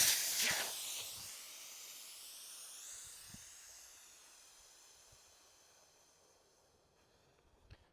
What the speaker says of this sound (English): Now you see the air comes out super quick.